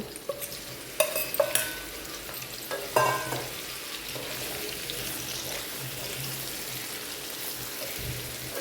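Tamarind pickle paste frying in a pan with steady close sizzling and a few sharp scraping knocks of stirring near the start, continuing alone as an even hiss.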